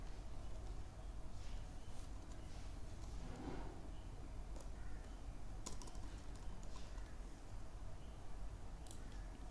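Typing HTML on a computer keyboard, faint scattered key clicks buried under a steady broadband background hiss.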